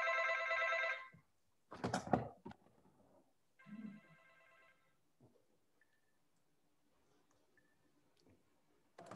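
A mobile phone rings in a lecture setting, a bright electronic ringtone burst at the start and another shorter one a few seconds later, then clicks and near silence, fairly quiet overall.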